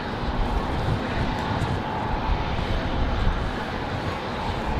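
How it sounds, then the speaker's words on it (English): Alaska Airlines Boeing 737-900 jet idling at the end of a runway at night, holding before takeoff: a steady broadband engine roar that stays level and fairly loud throughout, with no voices. "Alaska 572 out at the end of the runway, getting ready to go. 737-900 tonight for Alaska"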